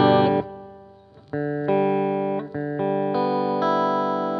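An electric guitar through a Fender amplifier rings out sustained, distorted chords, one after another with brief breaks between them, loud and close, with no voices.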